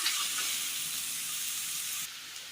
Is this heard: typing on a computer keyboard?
no